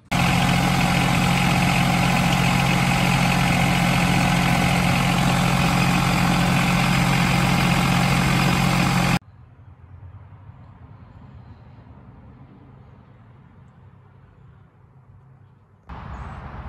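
A John Deere 2210 compact tractor engine runs with a newly replaced hydrostatic transmission fan, idling loud and steady for about nine seconds before dropping to a much quieter low rumble.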